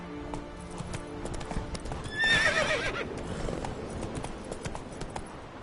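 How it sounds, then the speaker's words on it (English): A horse in a video game gallops with rapid clip-clop hoofbeats, and a loud neigh cuts in partway through over a busy backdrop of game music and ambience. "Run, Roach."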